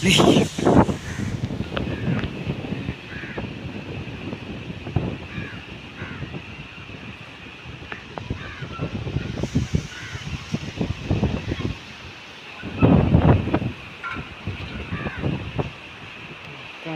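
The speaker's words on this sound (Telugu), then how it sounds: "వర్షం మాత్రం పడట్లేదు గాలి మాత్రం విపరీతమైన గాలి వేస్తుంది" Strong summer wind roars and buffets the microphone throughout, rising into heavy gusts, with rustling through mango trees and faint bird calls underneath.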